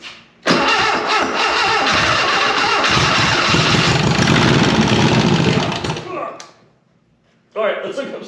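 A VW 411 engine cranks and catches, running loud and rough for several seconds before cutting out, then cranking again briefly; voices can be heard around it.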